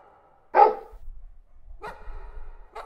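A dog barks sharply once up close, then gives two shorter, softer barks a second apart, with a low rumble between them, in the Butterfly Soup video game.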